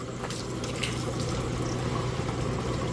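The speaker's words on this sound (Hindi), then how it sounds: "कूलर में पानी भर लें थोड़ा" Water pours steadily into an air cooler's tank, a continuous close rushing and splashing with a low hum underneath and no talking.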